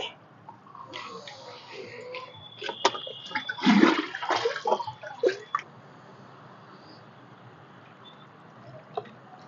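Liquid fertilizer poured into a hand pump sprayer until it overflows, gurgling, splashing and dripping close by for a few seconds and then settling into quiet, with no clear talking.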